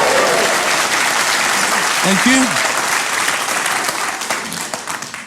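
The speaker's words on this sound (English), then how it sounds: "I want a big cheer for this, ladies and gentlemen." A theatre audience at a Fringe comedy show applauds and cheers loudly, a dense continuous wash of clapping that slowly thins toward the end, with a brief spoken thanks over it.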